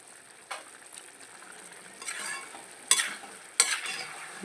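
Fish pickle gravy bubbles softly in a pan with a faint sizzle. A spoon stirs and scrapes through it in a few sharp, close strokes.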